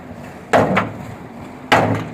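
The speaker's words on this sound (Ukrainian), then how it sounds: "А ну, пісок стукай ломом." Frozen sand is struck with a crowbar at a brick-house construction site, giving two loud, sharp thuds about a second apart, each followed by a short scraping tail.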